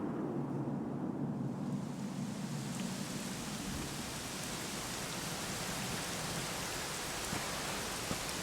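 Steady rain falls in the Dragon Quest XI video game as a broad, even wash of hiss that stays constant and unbroken, with no voices.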